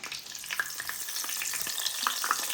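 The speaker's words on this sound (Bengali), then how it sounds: "আমি এখন মাছটা বইয়ে দিই" Small ilish fish fry in hot oil in a home kitchen, a close, steady sizzle with light spitting crackles and no one speaking.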